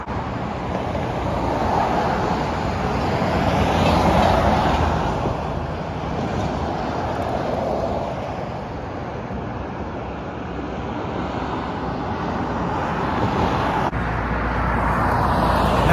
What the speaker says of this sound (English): there's so much road noise out here